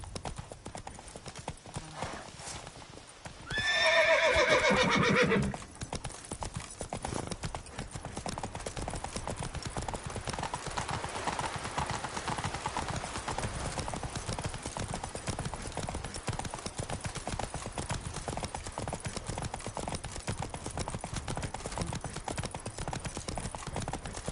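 Horse hooves clip-clop steadily throughout in The Witcher 3 video game, with a brief loud burst of neighing early on and faint talk in the background.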